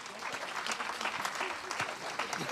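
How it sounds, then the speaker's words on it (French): An audience gathered for a church talk bursts into warm, sustained applause, many hands clapping densely and close with a faint murmur of voices beneath. "On peut l'applaudir quand même"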